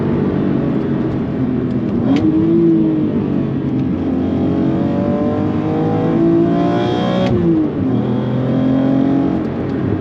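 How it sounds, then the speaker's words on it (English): A steady, throaty car engine drone with induction noise heard from inside the cabin with windows up, the pitch rising and falling as the car shifts and accelerates, loud and continuous. "I kind of like it with the windows up because I can hear the induction noise a lot more."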